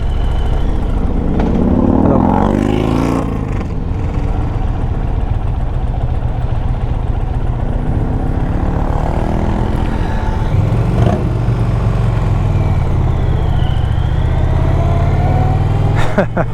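A 2023 Indian Pursuit, a large touring motorcycle, rolls at slow speed through traffic, its engine a steady mid-pitched hum with a brief swell of throttle near the start and passing road noise.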